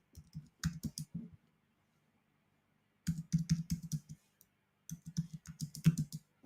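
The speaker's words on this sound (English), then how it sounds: "let me just type this in quickly" Close-up typing on a computer keyboard comes in three quick bursts of crisp key clicks separated by short silent pauses.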